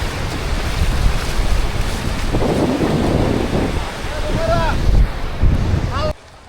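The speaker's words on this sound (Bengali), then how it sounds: "বাতাস প্রচুর বাতাস" Strong wind roars over crashing surf at Guliakhali sea beach, buffeting the microphone, with a voice briefly audible before the sound cuts off abruptly.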